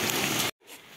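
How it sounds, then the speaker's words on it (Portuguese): Heavy rain from a storm in Ubatuba pours down onto a flooded backyard, a loud, dense hiss that cuts out abruptly to brief silence and then returns softer. "Ainda tá chovendo."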